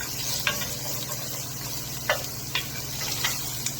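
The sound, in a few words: stirring garlic and onions in a pan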